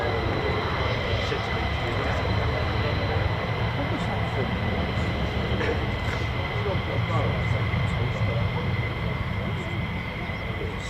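Several F-15 fighter jets idling at the end of the runway at RAF Lakenheath, a steady loud engine rumble with a sustained high whine and no change across the whole stretch.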